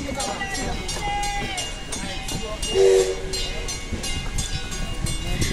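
Rumbling rail noise of a train rolling in, with a brief horn-like tone partway through and people chatting nearby throughout.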